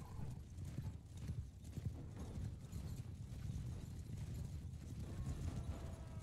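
Many horses gallop at once in a Mount & Blade II: Bannerlord battle with mounted Khuzait horse archers, a dense rumbling drum of hooves that stays steady and fairly quiet.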